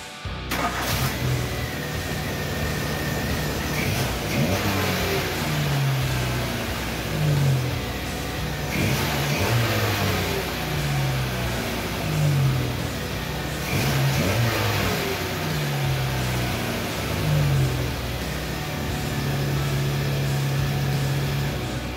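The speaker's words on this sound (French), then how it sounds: "je refais tourner le moteur, on va voir si ça tourne bien" A Volkswagen Golf 3 cabriolet engine runs steadily nearby after its idle actuator was replaced, revving up and settling back several times in a repeating rhythm, with no talking.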